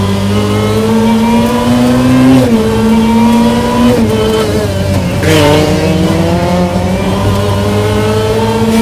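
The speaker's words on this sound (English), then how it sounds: "And you can just hear the supercharger." A powerful supercharged car engine revs hard and loud up close, its pitch rising and dipping between gears with a high mechanical supercharger whine over the roar.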